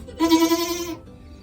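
A young goat kid in a barn gives a single loud, wavering bleat lasting under a second, close by, followed by quiet.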